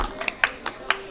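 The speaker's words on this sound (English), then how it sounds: "give him a round of applause" A small group at a nighttime car meet claps to welcome a young guest from Peru: a handful of sparse, irregular handclaps over low background murmur.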